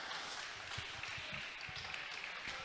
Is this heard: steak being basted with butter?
no